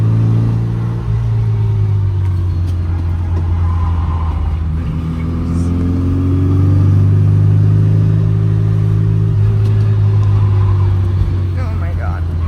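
A 1960 Austin Mini with no thermostat drives on a road near the Tail of the Dragon, its engine a loud, steady, close drone with slight swells as it revs, holding throughout.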